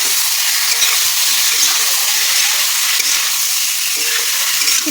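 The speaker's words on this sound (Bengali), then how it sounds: "ফুলকপি আলুটা একটু ভেজে নেব।" Boiled cauliflower and potato frying in hot oil in a kadai, a loud, dense, unbroken sizzle held close throughout, with faint clinks and no speech.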